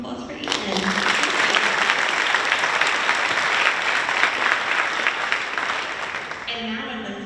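Sustained applause from an audience at a high school honor society induction ceremony, a dense, steady clatter of many hands lasting several seconds before tapering off, with brief voices at the edges.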